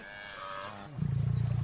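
A lion roars in the wild grasslands, a deep, loud, pulsing roar that swells up suddenly after a moment of quieter ambient sound and holds strong to the end.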